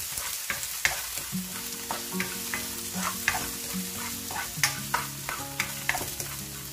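Onions sizzle in a hot pan for a pork giniling dish, with steady frying hiss broken by repeated clicks and scrapes of stirring, all close up and without talk.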